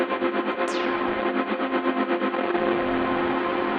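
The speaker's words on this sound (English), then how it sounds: "instead of tape echo on bus 3, I did ring modulator" A sample played on an SP404 runs through a ring modulator, giving a steady, buzzy, metallic drone with a warbling pulse and a brief descending sweep partway through.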